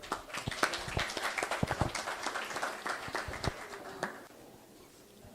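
Audience applause at a political forum, a burst of many hands clapping with a few sharp nearby claps, fading out toward the end into quiet room noise.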